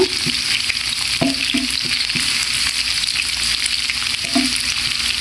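Chopped onions frying in oil, a constant close sizzle with intermittent knocks and scrapes of stirring against the pan, no voices.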